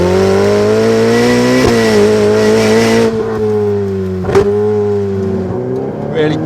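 Ferrari 488 Pista 2019 710bhp turbocharged supercar with amplified engine sound pulling hard on a road, a loud rising engine note from inside the cabin with gear-change dips and a brief sharp burst near the end.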